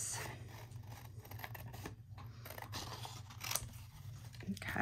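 Scissors snip through paper during a papercraft project, a few soft crisp cuts sitting low under a steady background hum with no other clear sounds.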